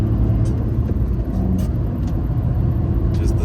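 A 2023 Fiat 500 engine runs with a loud, steady, close-up rumble and throaty hum that stays constant throughout.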